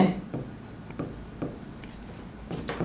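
A pen scratches on paper in short, repeated strokes while someone works out a number-system conversion by hand. The writing is steady and close, with soft pauses between bursts.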